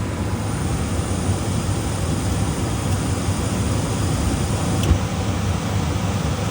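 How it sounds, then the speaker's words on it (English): A gas furnace's main burner lights in a no-heat service call, giving a steady, even roar and hum of airflow that holds throughout, with one brief faint click near the end. "Now watch what happens. Main ignition."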